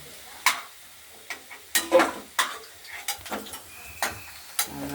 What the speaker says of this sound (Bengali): আলুটা ভাজা হয়ে গেছে এবার আমি নামিয়ে নিচ্ছি